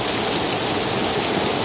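Heavy rain pours down steadily during a stormy night, a dense, loud, unbroken hiss of falling water close by with no voices over it.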